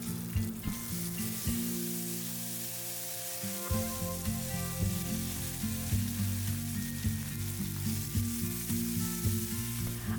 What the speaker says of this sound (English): Then I'll add mustard seeds, 1 green chili, and finely chopped potatoes.